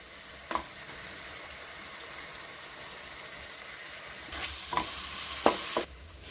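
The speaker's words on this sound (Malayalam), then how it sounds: "അപ്പം നമ്മുടെ ഇഞ്ചിയും വെളുത്തുള്ളിയും പേസ്റ്റൊക്കെ നന്നായി വഴണ്ട് സെറ്റായി കിട്ടിയിട്ടുണ്ട്" Ginger garlic paste sautéing in a pan with coriander and mint leaves for biryani gives a steady low sizzle, with a few sharp stirring clicks and scrapes that pick up toward the end.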